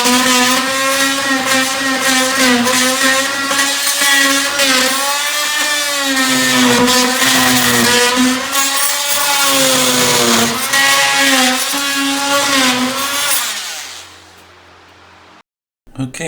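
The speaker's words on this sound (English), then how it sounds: "I thought I'd try this oscillating tool that I picked up at Harbor Freight with a wood and plastic bit that's on it." A Harbor Freight oscillating tool fitted with a wood and plastic blade cuts through a sailboat's fiberglass deck, a loud, steady high-pitched buzz with wavering pitch that runs for about fourteen seconds before stopping abruptly.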